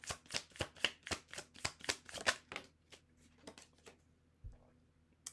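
Tarot cards shuffled by hand in a quick run of about a dozen crisp riffling flicks, then a few softer slaps and taps as the deck settles, close and fairly quiet with no talking.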